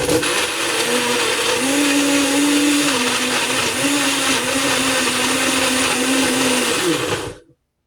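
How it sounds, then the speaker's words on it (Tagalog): A blender runs loudly and continuously for about seven seconds, mixing cake batter of oil and sugar, its motor pitch wavering slightly, then cuts off abruptly. "I-blend lang natin."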